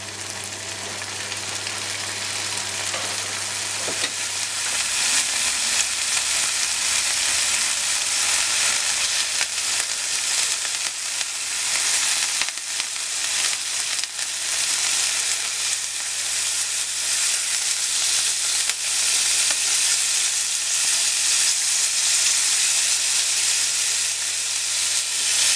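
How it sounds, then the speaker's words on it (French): Endives grilling in a preheated frying pan, a loud, continuous, close sizzle and hiss that holds steady throughout with no talking. "Et dans une poêle déjà préchauffée, je vais faire griller les quatre côtés de mes endives"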